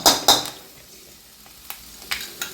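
Fenugreek seeds splutter in hot oil, giving a few sharp, separate pops and crackles over a quiet background hiss, close and fairly loud.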